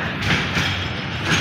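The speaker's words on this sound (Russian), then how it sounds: "Вон там трамвай проехал." A city tram passes by outdoors with a rumbling, rolling noise and soft rhythmic thumps from its wheels, steady and moderately loud throughout.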